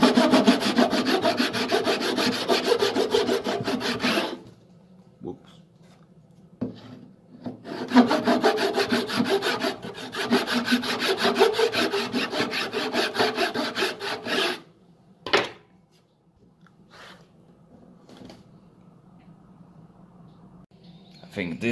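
A handsaw cuts into guitar wood to add extra frets for quarter tones, long rhythmic rasping strokes in close bursts separated by pauses and a few sharp knocks.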